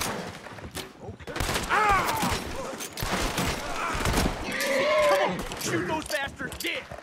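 Gunfire from a shootout in Red Dead Redemption 2 during a train robbery, with repeated shots and thuds across the whole stretch under loud shouting voices.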